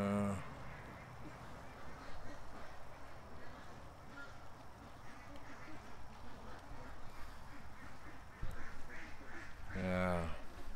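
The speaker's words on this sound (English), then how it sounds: "There's like enough ducks down in the swamp that a coyote could run out and try to get one." Ducks in a swamp give faint, distant quacks at the start and end of a long stretch of steady outdoor background noise.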